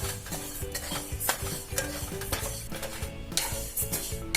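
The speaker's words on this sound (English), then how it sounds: "the first step is to add the moong dal, and we're just gonna fry it" Moong dal frying and being stirred in a pan, with a steady sizzle and repeated scraping strokes of a spoon against the pan bottom throughout, fairly close and continuous, no voices.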